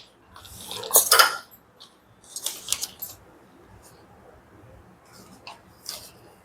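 A spoon adds vanilla custard powder to a bowl, making a few bright metallic clinks and scrapes in short bursts, close up with quiet gaps between.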